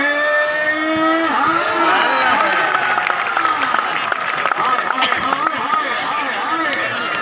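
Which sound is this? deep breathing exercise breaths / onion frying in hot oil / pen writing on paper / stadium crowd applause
stadium crowd applause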